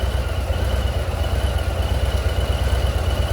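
A Harley-Davidson FXLRST with a 117-inch engine and quiet stock exhaust runs steadily, a continuous low mechanical rumble close by with no talking.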